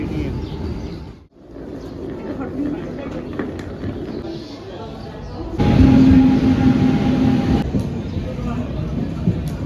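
Rumble and rattle from inside a moving passenger train, a steady mid-level roar that swells louder partway through and carries a brief high whine, with people talking over it.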